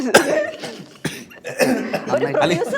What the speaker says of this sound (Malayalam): ഞാൻ ചുമച്ചത് ശരിക്കും ചുമന്നിട്ടാ